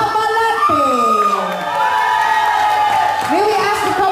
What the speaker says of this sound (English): Let's give him applause.